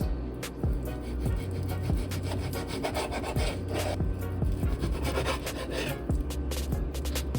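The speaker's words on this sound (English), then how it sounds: "I'm just going to kind of slice these into thin strips." A knife cuts bacon into thin strips on a board, with quick repeated slicing strokes and soft thuds in a steady rhythm, close and continuous, no talking.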